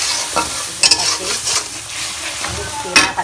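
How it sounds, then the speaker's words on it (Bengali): A spice paste loosened with fish broth sizzles loudly in a pan while being stirred, steady frying hiss broken by repeated scraping strokes of the spoon, close up and with no talking. "এখন মশলাটা সুন্দর করে কষিয়ে নেব তেল ওঠা পর্যন্ত"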